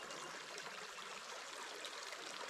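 Tannin-darkened Moora Creek in the Grampians National Park flows steadily in summer, a soft continuous hiss of trickling water, faint and even throughout with no voices.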